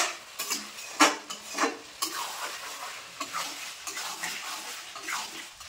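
Chicken pieces being sautéed and stirred in a pan as their released juices cook off, giving a close, steady wet sizzle broken by a few sharp spatula scrapes and clinks against the pan.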